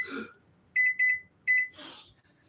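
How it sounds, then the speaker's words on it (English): A kitchen timer being set to 25 minutes gives three short, bright electronic beeps, with a rustle of handling just before and after. "Timer. So we're going to put 25 minutes."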